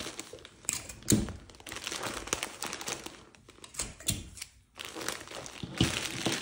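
Cellophane wrapping folded around a bouquet of flowers, close and crackly with repeated crinkling and rustling bursts and a few quieter gaps, no voices.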